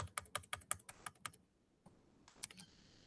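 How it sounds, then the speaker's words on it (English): Quick bursts of keys being pressed on a computer keyboard while text goes into a Google Doc, a close run of clicks that pauses and then picks up briefly again. "it will open as a Google Doc, and then you can type in this"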